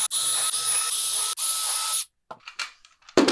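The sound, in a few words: power drill making pilot holes in a wooden panel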